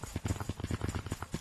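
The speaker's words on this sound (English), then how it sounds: "I hear footsteps." Quick footsteps fall in a steady, rapid rhythm of soft thuds, fairly close and moderately quiet, with no talking.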